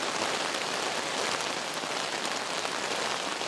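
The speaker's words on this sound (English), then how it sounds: "So we got the wind, we got the rain," Steady rain drums on the fabric of an Alps Mountaineering Lynx 1 backpacking tent during a windy night, a dense continuous patter with no pauses and no voices.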